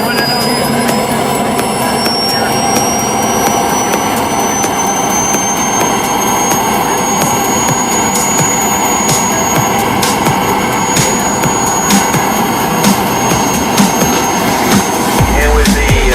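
Three model military jets pass over an air show in Arizona, their turbines a loud, continuous roar with a high whine that holds steady for the whole stretch.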